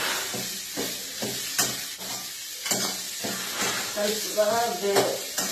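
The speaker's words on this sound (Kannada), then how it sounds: "ಸೋರೆಕಾಯಿ ಫ್ರೈ ಮಾಡ್ಕೋಬೇಕು" Bottle gourd fries in hot oil with an uneven sizzle and hiss, broken by scraping stirs at a regular pace, while someone talks over it.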